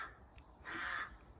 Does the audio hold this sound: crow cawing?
yes